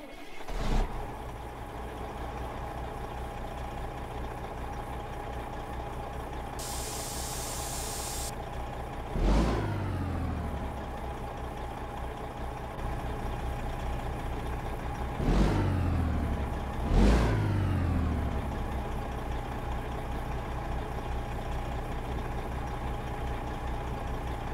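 A Kenworth truck's Caterpillar C15 diesel engine in a trucking video game starts up and settles into a steady rumbling idle, with three sharp revs breaking through over about twenty-five seconds, loud and close with no talking.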